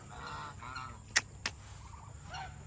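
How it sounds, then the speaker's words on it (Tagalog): Geese honk faintly in the distance after a rainy day, with two sharp brief calls standing out over soft murmuring and low background noise, no talking. "Ayan na ang ating mga bibi. Gansa."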